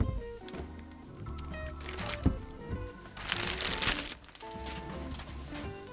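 Crinkly plastic bag rustling as an Alctron MP200 microphone preamp is pulled out, with bursts of crackling handling noise and a few bumps, close and fairly loud.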